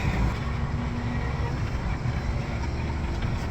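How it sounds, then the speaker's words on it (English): A tractor engine runs steadily during an Iowa blizzard, giving a low, continuous rumble with a constant droning idle and no breaks. "now we're gonna go put the tractor away"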